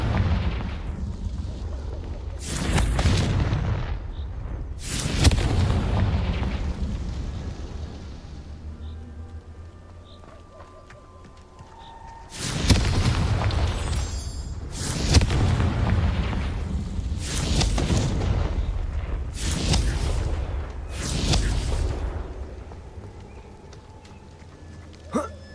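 Repeated booming explosive spell blasts in the Hogwarts Legacy video game, a burst of five or six loud bangs separated by a few seconds, each with a rumbling tail, amid game ambience and occasional voices.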